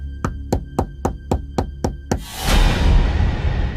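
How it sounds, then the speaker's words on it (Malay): A house door is rapped eight times in a quick, even sequence of sharp, close knocks, after which a louder diffuse rushing noise swells and takes over. "Dia ketuk pintu rumah saya, Casey."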